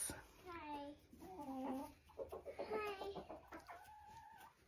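Several chickens cluck and make drawn-out calls close by, one after another over a quiet background.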